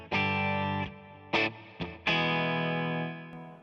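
Electric guitar played through a pedal chain ending in an Earthquaker Dispatch Master, with tremolo into reverb: a few sustained distorted chords, each ringing then cut off, the last one fading into a reverb tail.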